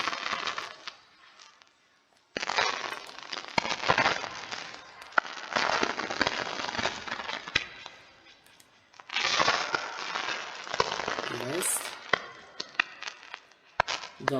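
Blaster fire and explosions from Lego Star Wars II, the Original Trilogy, a rebel attack level, as dense crackling bursts and rapid shots that run in long loud stretches with brief lulls between.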